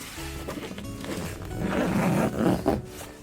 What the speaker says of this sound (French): des fenêtres qui s'ouvrent avec un système de fermeture éclair